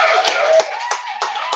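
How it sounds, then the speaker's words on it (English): A few people clap on a hip hop podcast to celebrate birthdays, giving brief uneven bursts of close handclaps mixed with talk and laughter. "Let's give them all some claps."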